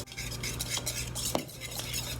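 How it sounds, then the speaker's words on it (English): Flour, cornmeal, baking powder and salt are whisked together in a bowl, a steady continuous scraping and clicking of the whisk close up with no talk. "we're going to take the flour and the cornmeal, the baking powder and the salt, and we're just going to whisk those together"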